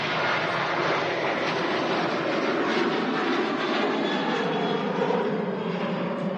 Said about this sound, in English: Off to Alicante, this Ryanair.